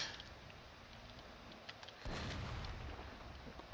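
Distant gunfire on troops in the battle game Total War Shogun 2, faint crackling shots and rumble that jump to a louder, denser volley partway through.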